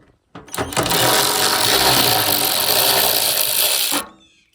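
A power driver with a T25 bit whirs loudly and continuously for about four seconds, backing out rusty fender bolts on a 2012 VW Passat. The sound starts abruptly and cuts off cleanly.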